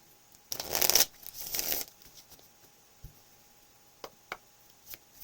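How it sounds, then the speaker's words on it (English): A close, brisk riffle of tarot cards being shuffled, followed by a few soft taps and clicks as the deck settles. "One more shuffle."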